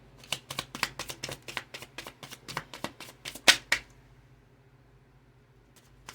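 Tarot cards are shuffled close by in a quick series of crisp riffling flicks, roughly a dozen soft snaps over a few seconds before the sound stops and near silence follows.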